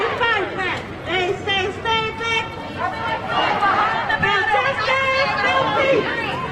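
A large crowd of over a thousand people and press gathered outside a courthouse, with dense overlapping chatter and many voices close by, steady and loud throughout.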